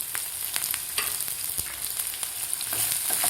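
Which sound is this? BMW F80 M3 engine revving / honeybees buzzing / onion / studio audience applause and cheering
onion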